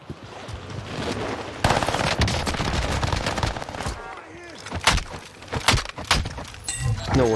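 Rapid bursts of automatic gunfire crackle in a Warzone battle royale match on the Caldera map, loud and sustained, then breaking into shorter volleys and single shots, with voices talking over the shooting.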